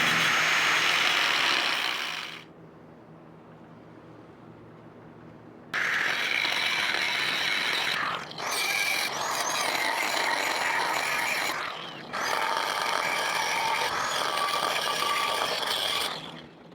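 A ratchet or air-driven tool works loose the wheels fitted to a steel I-beam outdoors, running in several loud sustained bursts separated by brief quiet gaps.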